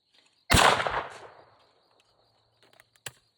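A single shotgun blast fired at a long-range clay target cracks loudly and close, then decays over about a second of echo, followed by a faint distant knock.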